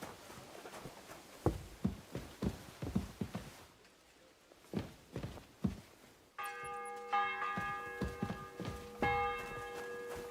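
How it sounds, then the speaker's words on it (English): Church bell in the video game Kingdom Come: Deliverance 2, ringing a few clear metallic strikes in the second half after a stretch of footsteps and soft clatter. "The bell's ringing for Hans the 5th time."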